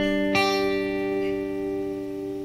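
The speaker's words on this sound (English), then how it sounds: "then I would play this, which is just a power chord" A single electric guitar power chord is struck and left to ring, buzzing with distortion and slowly fading, no voices.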